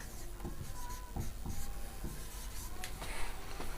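Chalk or marker scratching across a classroom board in a chemistry lesson, a steady faint rasp with short tapping strokes, no voices.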